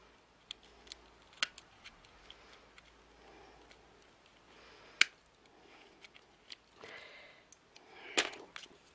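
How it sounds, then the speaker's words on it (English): Scissors snipping around a part for a steampunk pocket watch craft, a scattered series of quiet sharp snips and clicks at close range, with a louder cluster near the end. "I would just snip that around for now"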